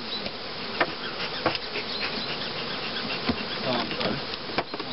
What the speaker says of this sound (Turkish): bizim arılarımız bal yapmıyor. Herkese sokuyor.